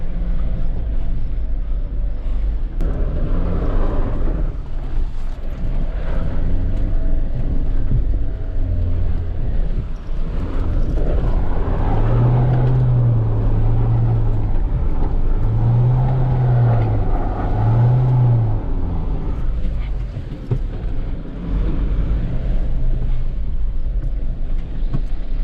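A 2020 Mahindra Thar's engine drones steadily as the vehicle drives off-road in two-wheel drive, a continuous loud rumble with road and wind noise throughout.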